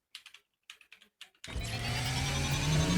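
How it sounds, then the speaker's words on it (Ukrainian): A few sparse computer keyboard clicks, heard through a Razer BlackShark V2 HyperSpeed headset microphone, tap out alone, then a loud continuous whirring noise starts up and drowns everything. "Ну і звісно, чи чутно клацання клавіатури"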